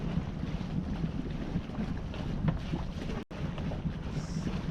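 Steady wind buffeting and rushing around a sailboat under way on a solo passage, with low water wash beneath, constant and fairly close with a brief dropout near the end.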